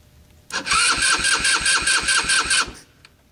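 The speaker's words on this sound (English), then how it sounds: "I wonder if I can actually hit the starter button." A derelict vehicle's starter cranks the engine in a rapid rhythmic churn of about a dozen pulses over two seconds, loud and close, then stops without catching.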